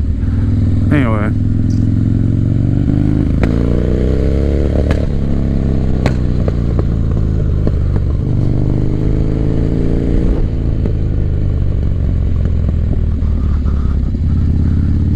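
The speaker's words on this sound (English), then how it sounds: "It's a freaking motorcycle, bud." A 1985 Harley Davidson FXR engine rumbles steadily while cruising, a loud low throb up close with brief shifts and clatter, and someone talks over it throughout.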